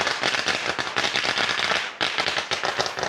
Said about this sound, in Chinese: 山顶上还放了鞭炮。